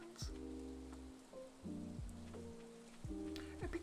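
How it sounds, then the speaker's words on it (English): Steady rain patter from the video game Stardew Valley, a soft continuous hiss under the game's stepping melodic music. "I do really like rain sounds."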